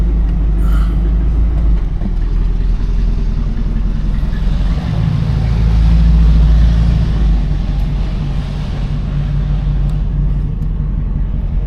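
A 1981 Cadillac Eldorado on the move, its apparently modified exhaust giving a loud, steady low rumble that swells slightly midway, with no talking over it.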